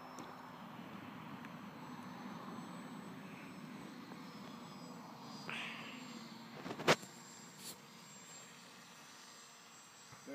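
A HobbyKing Bixler V1 RC model plane flies at half throttle, its small motor a faint, steady distant drone with wind noise, and a brief sharp knock near the middle.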